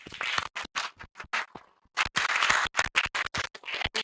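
Workshop audience clapping in bursts, a dense patter of hands that stops briefly and then resumes, fairly close and loud, with no talk over it.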